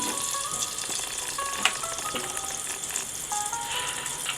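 Ghee poured into a pan for carrot payasam, giving a soft, steady sizzle and light frying crackle up close, with faint tonal background sounds underneath.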